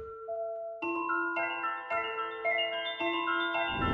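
A G minor ambient synth melody pitched down and run through the Portal plugin's hopper preset from the ether portal bank, its chiming notes entering in overlapping steps and ringing into a shimmering, layered wash, with no voices.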